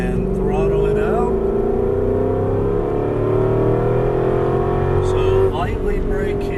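Aston Martin V8 Vantage engine pulling hard out of a turn, a loud steady drone climbing in pitch with a brief shift near the end, heard from inside the car while a person talks over it.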